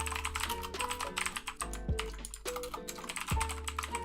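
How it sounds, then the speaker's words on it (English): Rapid, uneven keystrokes are hammered on a computer keyboard, a dense clatter of sharp clicks and heavier thumps that includes a couple of deeper spacebar-like knocks. The keyboard is close and nobody speaks. "just enjoy me mindlessly smashing away at my keyboard"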